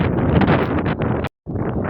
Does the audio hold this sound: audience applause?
no